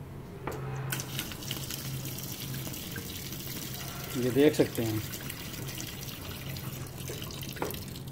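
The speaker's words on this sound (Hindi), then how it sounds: "ये इंतहाई गंदा पानी आ रहा है, पता नहीं ये गटर का पानी है" Dirty water runs steadily from a tap in a washroom at the Expo quarantine centre, a continuous splashing flow with a few louder gushes while someone talks over it.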